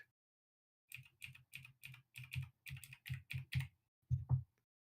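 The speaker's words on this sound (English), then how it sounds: "Darn overlaid clacky keyboard" Clacky computer keyboard typing heard alone in near silence, a run of about a dozen sharp, close keystroke clacks in quick bursts, with a brief pause before a final pair of louder clacks.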